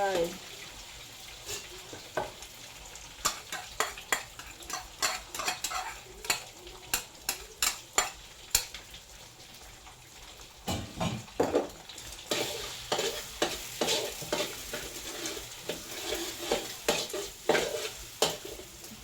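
Eggs sizzle in a hot pan while a utensil scrapes and taps repeatedly, irregular clatter over a steady frying hiss, close by.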